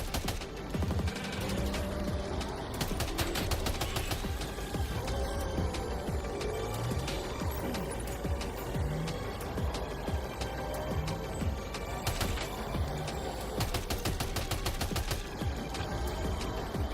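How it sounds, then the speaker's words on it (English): Rapid gunfire rattles steadily while driving in Death Stranding 2, a dense stream of sharp, close shots under a constant vehicle drone. "You should be capable of shooting while driving."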